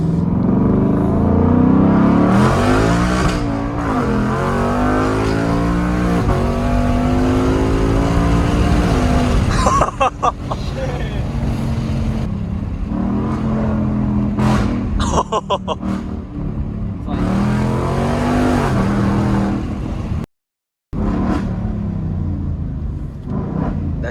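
A Shelby's engine revs repeatedly, climbing and falling in loud, deep but high-pitched sweeps up close, with a brief cut near the end and people talking faintly underneath.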